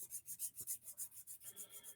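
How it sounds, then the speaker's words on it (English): Steady back-and-forth rubbing of a sanding stick on a plastic model part, a dry rasping scrape repeating rapidly and evenly, close and quiet, with no voices. "So you just want to keep rotating the sanding stick back and forth."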